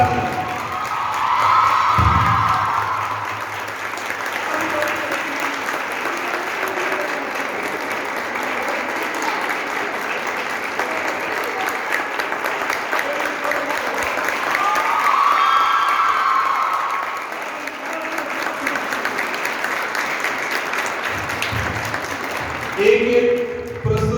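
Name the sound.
loud applause for Shefali and Aditi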